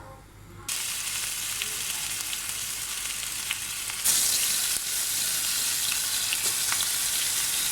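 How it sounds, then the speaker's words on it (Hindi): Masala-marinated mutton shallow frying in a pan starts with a sudden loud sizzle that keeps up a dense, even hiss. It swells again about halfway through as the meat shifts, heard close with no talking. "ये गोश्त पे मैं जो मसाला लगा के रखा हुआ था, इसको मैं अभी शैलो फ्राई कर रही हूँ"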